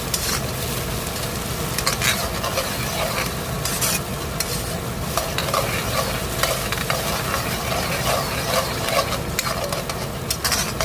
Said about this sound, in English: There's only a little bit of canola oil at the bottom, not much. Just let that saute for a little bit.